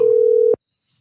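A telephone tone sounds while a call is being placed: a single steady electronic beep lasting about half a second, then cut off abruptly into silence.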